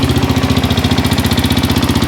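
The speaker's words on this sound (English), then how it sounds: "it's just a habit over the sound of the four-wheeler" A Suzuki LTZ 400 four-wheeler with valve train trouble idles close by, a loud, steady, rapid thumping pulse with a rough, chattering edge and no voices.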